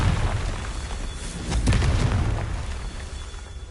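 Confringo fire spell cast in the game Hogwarts Legacy, a booming blast that swells around the middle and rolls off into a low rumble over the steady game backdrop.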